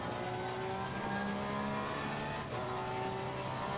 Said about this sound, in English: Love the sound of this car though.